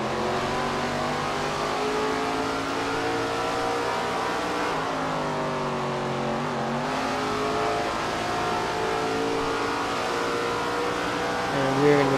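A race car engine in SRX The Game while closing in to pass Greg Biffle at Walnut Creek, a steady droning whine that rises and falls in pitch with gear changes, continuous and close.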